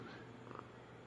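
A cat purring affectionately, a soft, steady low rumble heard close up and quiet, with no talking over it.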